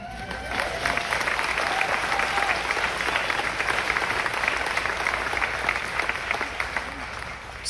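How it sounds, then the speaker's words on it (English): A large audience applauds loudly and continuously, a dense wash of clapping that holds steady throughout. "Speaking of applause"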